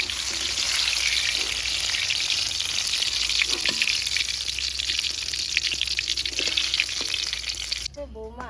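Onion pakoras fry in hot oil over low heat, a steady close sizzle and bubbling with occasional stirring clinks, running continuously and cutting off abruptly near the end.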